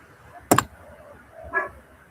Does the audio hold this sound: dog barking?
yes